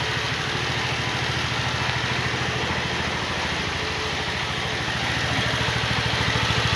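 Benelli Seta scooter engine running steadily at idle, a close, continuous low putter with an even pulsing rhythm and no voices.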